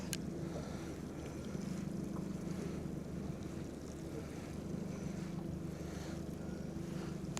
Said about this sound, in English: There's a lot of boats out here today.